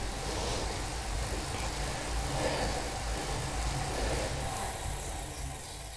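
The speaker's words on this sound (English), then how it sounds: "the Bluematic, spinning freely on the minimum resistance" A Tacx Bluematic indoor cycling turbo trainer spins freely at its minimum resistance setting, giving a steady, fairly quiet whirring hum with a low rumble that holds level throughout, with no talking.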